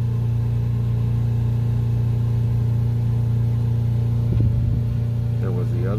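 A car engine with a DCT DPS6 dual-clutch transmission runs steadily during a clutch adaptation, its constant low drone rising briefly in a couple of small RPM bumps near the end.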